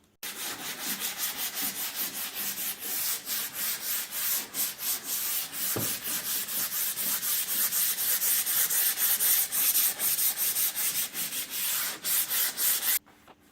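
Sandpaper sanding a wooden end table, 150 then 220 grit, in a cold garage: steady close rasping strokes running continuously for about thirteen seconds, then stopping abruptly.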